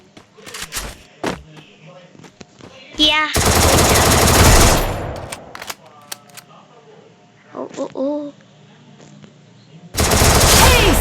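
Gunfire in the mobile battle-royale game Free Fire Max: scattered sharp single shots and clicks, two long loud bursts of automatic fire and one more at the end, with a voice speaking briefly in between.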